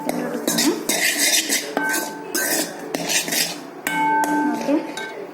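A spoon stirring and scraping in a pot or dish for a snack, with repeated metallic clinks and rattles of cutlery against cookware, close and fairly loud.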